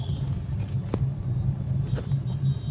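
A car drives through a heavy evening traffic jam near Gurgaon, with a steady low engine rumble and road hum, and a couple of brief sharp knocks or horn-like blips rising over the drone.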